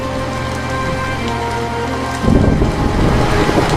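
Heavy rain pours steadily on surfaces during a thunderstorm, then swells into a louder, deeper roar partway through, as if thunder or a gust joins the downpour.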